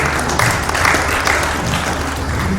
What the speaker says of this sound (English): We'll get a round of applause.